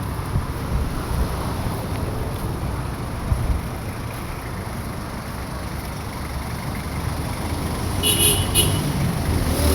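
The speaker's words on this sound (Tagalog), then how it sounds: "Medyo traffic na, ang aga-aga pa dito." Morning road traffic in a Philippine city fills the air as a steady, loud rumble of passing vehicles with wind buffeting the microphone, and a couple of short car horn toots sound near the end.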